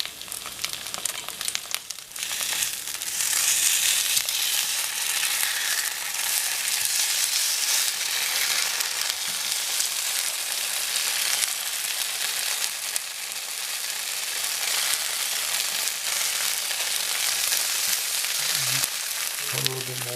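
Cornmeal mush slices (polenta) frying in butter in a pan make a dense, continuous sizzle and crackle that stays loud and steady throughout.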